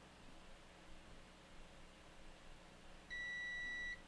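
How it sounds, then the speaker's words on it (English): A Nintendo Switch with a no-power fault, opened for repair, gives one steady, clear electronic beep lasting under a second near the end, over a faint background hiss. "Oh no, it's beeping."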